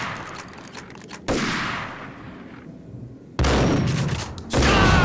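Bursts of gunfire from Max Payne: heavy, blasting volleys with rolling tails, separated by quieter fading stretches and ending in a sustained loud barrage.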